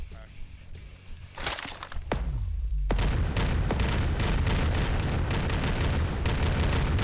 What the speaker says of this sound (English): Oh, the last cannon missed.